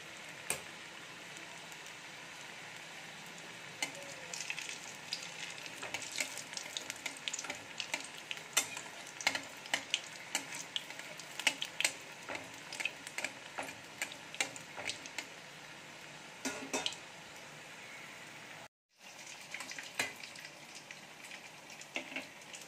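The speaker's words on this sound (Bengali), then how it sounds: "গ্যাসের ফ্লেমটা কিন্তু মিডিয়াম রেখে মুইঠাগুলো ভেজে নেব।" Soybean muithya dumplings deep-fry in oil over a medium gas flame, a quiet, continuous bubbling and crackling with scattered pops that briefly cuts out near the end.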